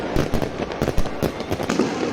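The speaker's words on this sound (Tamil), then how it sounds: "இவங்க இந்த பட்டாசை இன்னொரு அரை மணி நேரத்துக்கு நிறுத்த மாட்டாங்க." Dense New Year fireworks and firecrackers in a crowded street in Denmark, a steady barrage of overlapping pops and bangs with loud cracks every fraction of a second.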